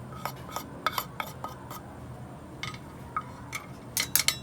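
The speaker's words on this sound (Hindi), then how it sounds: "अच्छी तरह मिक्स कर लेंगे" Raw beef slices for pasanday being hand-mixed with ground coriander, garam masala, crushed chillies, salt and turmeric in a metal dish, giving scattered soft clinks and scrapes at close range, with a quiet gap midway and a busier burst at the end.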